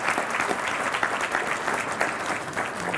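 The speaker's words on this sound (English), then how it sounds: "If we could give them a round of applause." Steady applause from an alumni dinner audience honouring the dinner co-chairs, dense clapping at an even level that holds throughout without a break.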